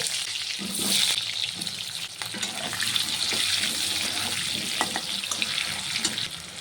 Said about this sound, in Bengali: এই তেলের মধ্যে আলুটাকেও ভেজে নেব।